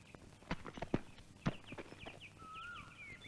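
Hooves of a horse clip-clopping at a walk, several sharp, uneven knocks close by, followed by faint chirping in the background.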